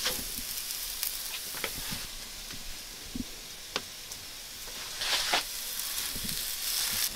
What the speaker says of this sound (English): I like to cut an onion into big chunks like this, and then just throw it on there and kind of get a nice char on both sides